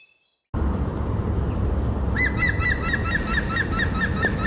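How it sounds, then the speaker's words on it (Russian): At dawn by a river during spring pike fishing, a bird calls in a rapid repeated series of bright notes over steady rushing water, fairly close and loud. "Здоровается птица"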